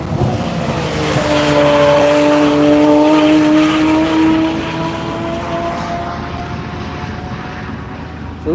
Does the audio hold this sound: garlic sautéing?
no